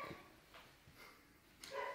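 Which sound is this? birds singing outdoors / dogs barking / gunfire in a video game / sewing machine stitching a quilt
dogs barking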